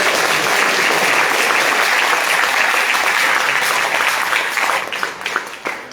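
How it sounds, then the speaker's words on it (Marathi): Loud, dense applause from a live audience at a music concert, steady and continuous for several seconds before thinning out with a few last claps at the end. "टाळ्या वाजवल्या."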